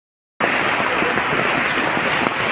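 After a brief silence, steady rain starts and hisses continuously, falling densely and evenly close by, in a flooded area with knee-deep water at Kureeppuzha.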